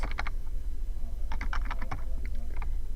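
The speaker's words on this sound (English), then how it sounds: "So I'm going to type Mrs.Lovejoy science" Someone types on a computer keyboard, quick clusters of light key clicks in irregular bursts, close and alone over a low background hum.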